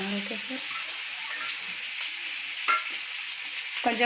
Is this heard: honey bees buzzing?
no